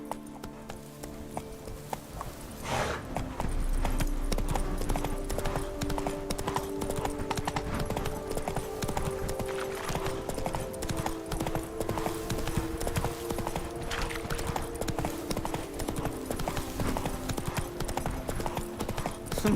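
A horse gallops in The Witcher 3, its hooves clip-clopping in a fast, unbroken rhythm for nearly twenty seconds. The beat is moderately loud and sits over a low, steady game ambience.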